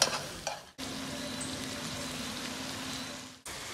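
Carrots, onions and garlic with a bouquet garni browning in a pot for beef bourguignon, a steady close sizzle and frying hiss, broken by a brief stir and a short clatter near the start.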